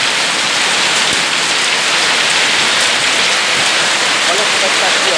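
Heavy rain with hail pouring down during a storm in São Paulo, a loud, steady, dense hiss of drops hammering surfaces without letup.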